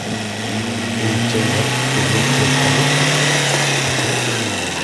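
A tractor engine runs at a steady, close droning hum for several seconds, with no voices.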